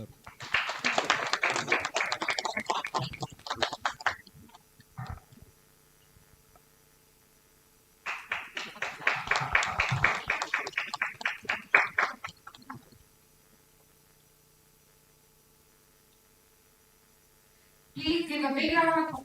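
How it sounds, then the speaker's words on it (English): Audience clapping at a felicitation ceremony during an MBA and BBA orientation programme, heard as two long bursts of sustained applause with a quiet pause between them, then a short final burst. "Please give a big round of applause as the team felicitates our chief guest"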